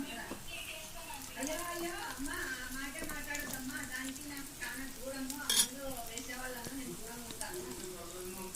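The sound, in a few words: egg omelette mixture frying in hot oil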